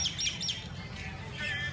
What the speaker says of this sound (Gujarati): આખા ગામની કાબરું અહીંયા જ છે